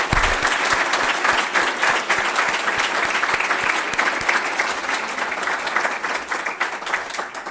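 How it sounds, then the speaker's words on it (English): A school board meeting audience claps for students, a loud, sustained, evenly textured round of applause with a few sharper individual claps standing out, tapering slightly toward the end. "how about another round of applause for all of our students?"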